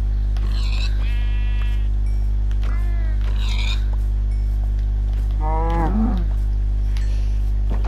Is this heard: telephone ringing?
no